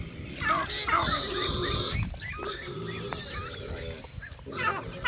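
Native pigs grunt and squeal in a busy farm pen, with chickens and a dog also heard, the animal noises overlapping continuously at moderate distance.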